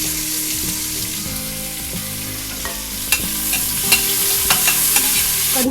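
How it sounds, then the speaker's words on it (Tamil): Green chillies and chopped onions frying in a pan, a loud continuous sizzle with repeated scraping strokes of a spoon stirring the pan, and no talking. "பச்சை மிளகாவும் இது நறுக்கின வெங்காயமும் போடுறேன். இது நல்லா செவக்காய் வறுக்கட்டும்."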